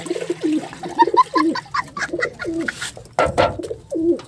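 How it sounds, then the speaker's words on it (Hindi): Domestic pigeons cooing on a hot afternoon, a close series of soft rhythmic throaty coos repeating several times, with a brief rustle of movement partway through and no talking. "तो ये हमारे शर्त के कबूतर हैं।"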